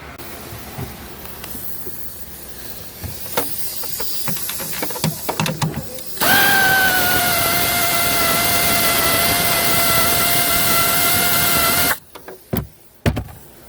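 A power tool removes 8 mm nuts from the tail light assembly of a 2013-or-later Buick Encore: scattered clicks and handling noises, then a loud steady whine for about six seconds, followed by more sharp clicks.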